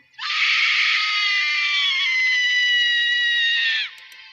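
A monstrous Thomas the train in a horror story lets out one long, shrill, piercing scream. It starts abruptly, holds steady for more than three seconds and cuts off sharply, with nothing else heard.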